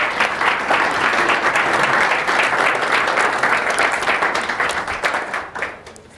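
An audience at Bethel Seminary gives steady, dense applause to welcome a lecturer, holding strong for several seconds before thinning and fading out at the end.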